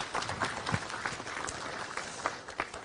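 Applause from an audience at a Gyeonggi Province signing ceremony comes through as a steady, soft wash of clapping with a few scattered louder claps, heard at a distance from a large room.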